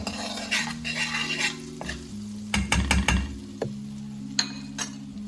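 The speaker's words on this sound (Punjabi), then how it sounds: "ਇਹਨਾਂ ਨੂੰ ਚੰਗੀ ਤਰ੍ਹਾਂ ਭੁੰਨ ਲਵਾਂਗੇ" Ingredients roast in butter in a pan over a low gas flame, a soft continuous sizzle with a spatula stirring and scraping, plus a cluster of bright metallic clinks midway, close by.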